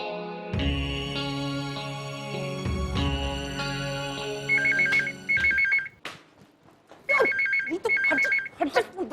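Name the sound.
phone ringing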